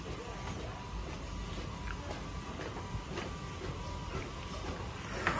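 A DTF roll sublimation printer, 24-inch or 12-inch model, runs steadily with a continuous mechanical whir, faint repeated clicks and a soft hiss, moderately close and without talk.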